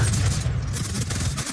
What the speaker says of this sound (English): I tried with a shotgun.